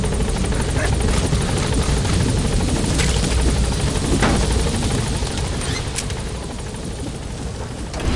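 Pequod's helicopter from Metal Gear Solid V arriving, its rotor a loud, steady, continuous drone that holds throughout with only slight fading near the end.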